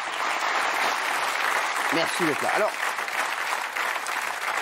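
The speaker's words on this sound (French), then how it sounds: "Soit on peut applaudir hein, Lassana" Audience applause from a studio crowd on a French television talk show, a steady dense wash of clapping throughout, with a voice briefly speaking over it partway through.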